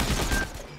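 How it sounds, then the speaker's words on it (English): Walnut cannons fire in the Plants vs. Zombies: Battle for Neighborville video game, a loud dense burst of rapid shots that thins out after about half a second. "Egads, walnut cannons ahead, destroy them."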